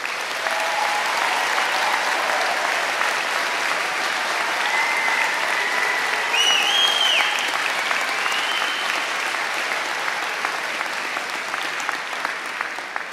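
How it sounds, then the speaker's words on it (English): Sustained, dense applause from a large audience congratulating graduates at a St. Thomas University spring convocation, steady and loud throughout with a few faint whistles or cheers rising briefly above it. "give a big round of applause to congratulate"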